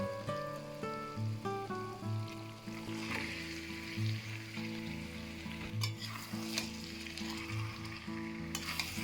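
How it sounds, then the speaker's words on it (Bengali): Marinated mutton sizzles and fries with spices in a pan while being stirred. The crackle is steady and close, with occasional scraping bursts, and soft background music plays underneath. "এবার মেখে রাখা খাসির মাংসটা দিয়ে ভালো করে মশলার সাথে কষিয়ে নেব।"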